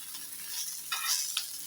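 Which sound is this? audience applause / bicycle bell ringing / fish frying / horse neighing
fish frying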